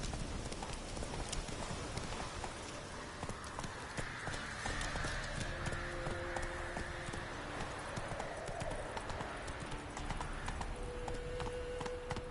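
Roach, the horse in The Witcher 3, gallops in a steady rapid clip-clop of hooves that carries on throughout, with a brief whinny-like tone partway through and game ambience underneath.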